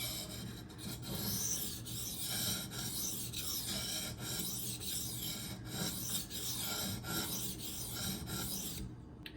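An Esee Izula II knife of 1095 steel scrapes across sharpening stones in a close, continuous rasp of repeated strokes, alone without voices.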